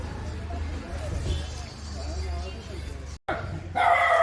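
Dogs yip and whimper in short bursts alongside someone talking, with a brief silent gap before louder, brighter noise.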